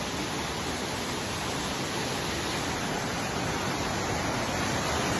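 Pulang Bato Falls roars as a steady, dense, loud wash of falling water with no breaks or variation, filling the whole stretch with broadband rushing noise.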